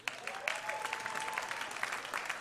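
A church audience claps at a comedy show, a modest, uneven patter of hand claps at moderate distance, with a faint tonal hum running underneath.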